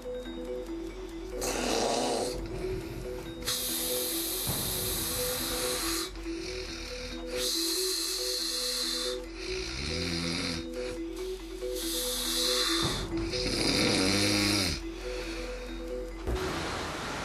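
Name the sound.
person snoring while asleep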